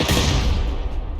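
A grenade explodes in PUBG Lite, a loud, close, broadband blast that lingers as a dense rumbling roar for over a second.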